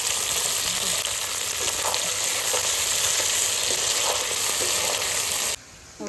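Chopped onion and green chili fry in hot oil in a home kitchen while mutton curry is being made, giving a steady close sizzle with light stirring scrapes that cut off abruptly near the end.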